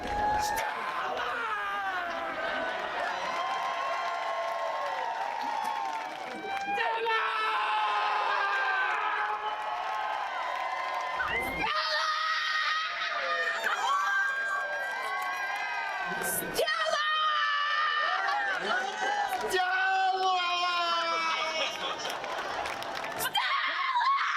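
A crowd at the Tennessee Williams New Orleans Literary Festival kickoff screams in a screaming contest: long, loud, shrill voices rise and break one after another, with cheers and laughter in between.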